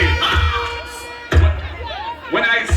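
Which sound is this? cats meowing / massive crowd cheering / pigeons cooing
massive crowd cheering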